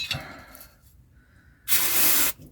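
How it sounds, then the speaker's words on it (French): A short, sharp burst of brake cleaner spray hisses loudly for under a second on a BMW E12 528i, after a quiet pause with faint handling noises. "on donne un coup de nettoyant frein"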